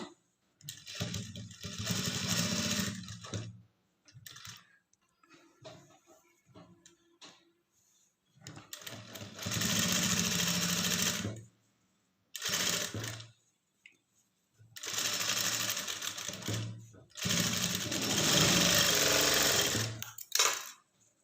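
A sewing machine stitching a curved cup dart on a bra-type blouse runs in several sustained bursts of mechanical whirring and clatter. Quiet pauses separate the bursts, and the later runs are longer and louder.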